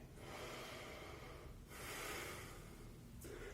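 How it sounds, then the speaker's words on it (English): A yoga instructor takes a long, audible in-breath while holding a crescent lunge, with a short second intake near the end; the breathing is close and alone, with no talking. "Breathe in here."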